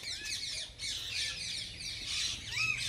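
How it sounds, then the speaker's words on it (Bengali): Harsh, raucous parrot squawks repeat throughout at a mini zoo in Howrah, India, over a noisy backdrop, several birds calling at once, fairly close. "এখানে ভর্তি টিয়া পাখি।"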